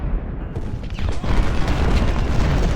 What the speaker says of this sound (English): Damn the artillery up there. You can see the shells coming in over the wood.